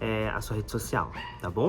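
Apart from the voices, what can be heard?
dogs barking in the background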